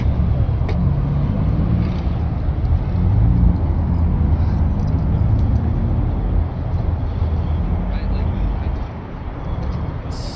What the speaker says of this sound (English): Oh, did you hear that? Wide body Porsche.